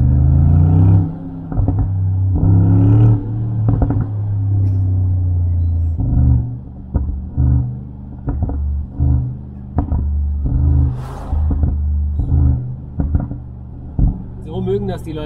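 A Brabus G800 G-Class with an 800 hp engine accelerates, its deep engine rumble rising and dropping through gear changes while people talk over it inside the car.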